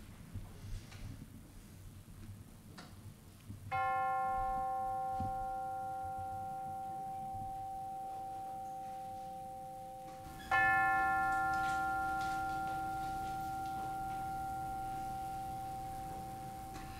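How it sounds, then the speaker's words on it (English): A bell rings twice to open a worship service, each strike clear and resonant, decaying slowly over several seconds in a quiet room. "let us center our hearts and minds with the ringing of the bell"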